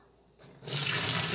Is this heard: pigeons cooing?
no